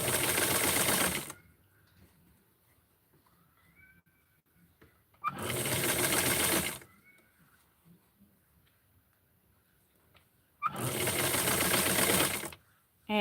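A serger sewing machine stitching doll clothes runs in three loud, close bursts of rapid whirring, each a second or two long, separated by quiet pauses.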